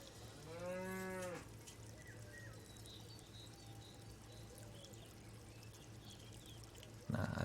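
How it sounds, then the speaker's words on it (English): A cow moos once, long and loud, over a soft meditation ambience of drones and faint bird chirps. A sharp noise bursts in near the end. "Do we want some cows?"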